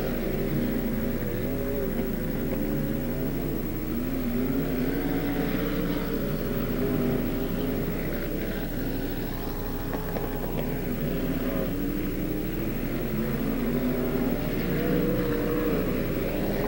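UMP modified race cars roar around Beckley Motor Speedway during a 1994 feature, a steady, loud blur of engine drone with a distant, continuous racing-pack rumble throughout.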